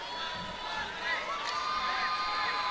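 A Texas A&M cheer section yells in a college basketball arena during an NCAA women's tournament game, a sustained wash of crowd shouting and cheering at steady volume.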